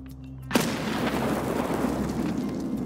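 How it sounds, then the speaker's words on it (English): Grenade explosions in the shooter game Escape from Tarkov: one sharp, loud blast hits early, then a long rumbling roar of debris and echo that stays strong to the end. "Throwing more grenades at me."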